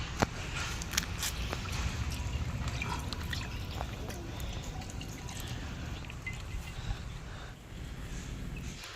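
Liquid, about a litre, is poured into a cooking pot for a village-style handi mutton gravy, giving a soft, continuous trickling and splashing with occasional drips, faint and close.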